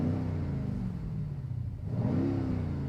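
A Mercedes-Benz GLE or BMW X6 Competition SUV engine revs up close with a throaty exhaust rumble, dipping briefly before climbing again into a louder rev.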